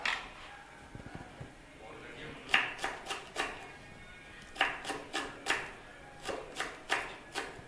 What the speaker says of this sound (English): I cut the green chilies.